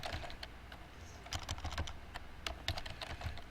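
Fast, uneven keystrokes on a computer keyboard, close and clear, clustered in short bursts with brief pauses, as if entering a name into a search field, with no voices.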